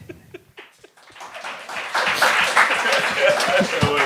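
Studio audience on a French-language comedy game show breaks into applause after a few isolated laughs and claps, swelling into steady, dense clapping that fills the room and holds loud to the end.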